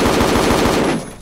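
Rapid automatic gunfire in an online multiplayer roleplay shooter game, a fast burst of evenly spaced loud shots that cuts off abruptly near the end, with no talking.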